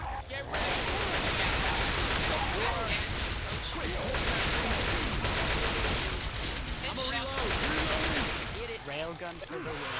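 Railgun fire in Left 4 Dead 2 on a Portal-themed survival map, loud sustained blasts and chaotic combat noise filling most of the span before easing off near the end.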